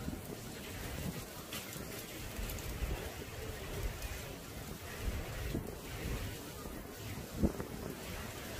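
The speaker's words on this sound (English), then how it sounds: "It's still a little windy out here, though. We're still getting the wind gusts and stuff like that." Wind gusts during an outdoor derecho storm produce a constant, low roaring rush and microphone buffeting, with a soft hiss like rain underneath and one brief louder thump near the end.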